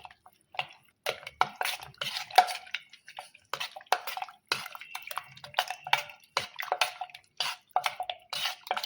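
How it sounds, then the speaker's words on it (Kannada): Wet, sticky squelching and scraping as a spoon stirs a thick neem and jaggery bevu mixture for the Ugadi festival, in uneven bursts of close, clicky mixing noises with short pauses, no talk. "ಈ ಥರ ಚೆಂದಾಗಿ ಮಿಕ್ಸ್ ಮಾಡ್ಕೊತೀನಿ ರೀ"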